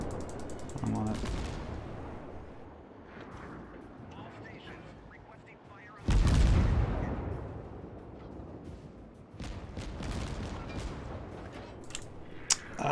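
Kuma-class Tier IV Japanese cruiser guns firing in World of Warships, several loud booming salvos with sharp onsets and rumbling tails, spaced seconds apart over ongoing battle noise while people talk.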